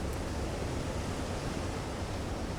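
Rough seas wash over a surfaced U-boat in the Silent Hunter 3 submarine game, a constant, full wash of wave noise with no breaks or voices.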